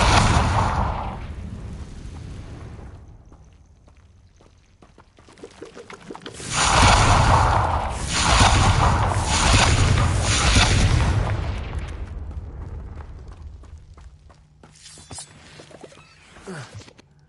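Blasting spell explosions in Hogwarts Legacy rumble as several loud, deep booms in close succession, each swelling and rolling off, with quieter magical crackles before and after.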